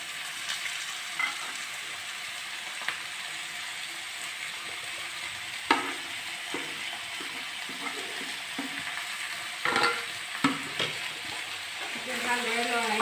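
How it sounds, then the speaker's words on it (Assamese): Ground spices are stirred into frying duck meat, a continuous soft sizzle broken by several scraping and knocking spoon strokes against the pan, fairly close, with no talking. "ইয়াত এতিয়া মই খুন্দি ৰখা মছলাখিনি এড কৰি দিলোঁ।"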